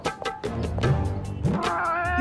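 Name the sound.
cat meowing in cartoon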